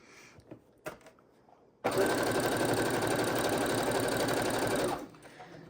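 A domestic sewing machine stitches a quilt border of 5-inch blue fabric strips, running in one steady, loud burst for about three seconds after a few faint handling knocks, then stopping.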